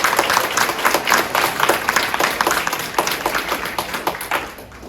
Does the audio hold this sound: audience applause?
yes